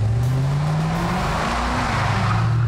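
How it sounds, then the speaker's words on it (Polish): A Corvette V8 engine roars loudly and continuously, its low rumble rising in pitch as it revs, with a sustained throaty tone throughout. "ten dźwięk silnika V8 to jest coś, co jest absolutnie nie do podrobienia"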